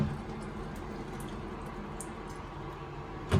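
Cold tap water running over cooked pasta for a white sauce dish, a soft steady hiss of flowing water, faint and continuous, with a brief louder splash at the very end.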